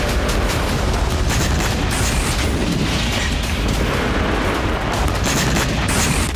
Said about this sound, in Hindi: इसमें धमाके की आवाज बता रही है कि कितना विध्वंसक हमला था